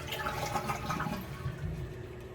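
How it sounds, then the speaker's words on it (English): A toilet flushing during a fill valve replacement, a steady rushing gurgle of water draining from the tank, close and continuous without speech. "Flush the toilet."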